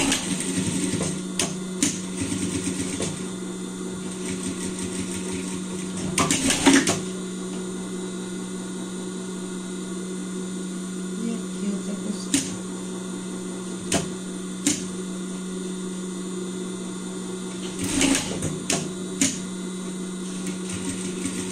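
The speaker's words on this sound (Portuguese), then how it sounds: "No nosso cinto, a gente vai passar uma costura, cuidando para não pegar" A sewing machine runs a seam along the belt of a pet bandana, its steady mechanical hum continuing for the whole stretch and broken now and then by sharp clicks and taps.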